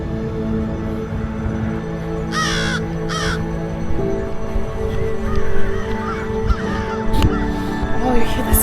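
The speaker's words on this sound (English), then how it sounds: "Oh, you hear the sound of the birds?" Crows cawing outdoors in a short burst of repeated calls, fairly clear above steady background noise and a low hum, with a few fainter calls following later.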